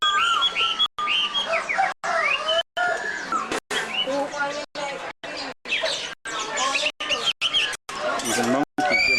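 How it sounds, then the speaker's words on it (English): Small caged birds at a market in Indonesia give rapid chirps and tweets, busy and fairly close, with someone talking over them throughout. "Birds in a small cage."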